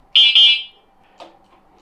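An electric bike's buzzer gives two loud, shrill beeps in quick succession, the second one longer, and then falls silent apart from faint background noise.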